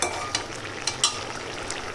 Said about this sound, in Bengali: পোস্তটা দিয়ে কিন্তু খুব বেশি নাড়াচাড়া করবো না, একটু নাড়াচাড়া করে নামিয়ে দেবো